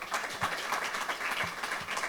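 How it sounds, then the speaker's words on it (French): A conference audience applauding, a dense wash of many hands clapping steadily at moderate distance, with no voices standing out. "sur vos applaudissements"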